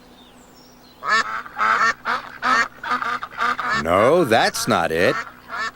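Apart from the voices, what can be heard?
family of ducks quacking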